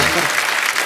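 Brief burst of loud applause from a comedy show studio audience, dense and continuous for under a second.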